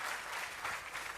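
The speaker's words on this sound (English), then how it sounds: "So another round of applause." Audience at an ambassadors' conference applauding steadily, a dense wash of clapping that holds at an even level for the whole short stretch.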